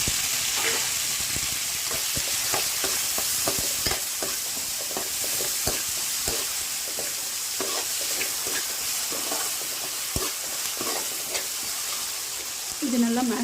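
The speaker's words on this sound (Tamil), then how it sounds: "இது நல்லா மேஷ் ஆகிற அளவுக்கு வதக்கிக்கலாம்" Chopped tomatoes with chili and turmeric powder fry in a pan for a home-style paruppu sadam masala, a constant soft sizzle marked by repeated stirring scrapes and clicks, close and fairly quiet.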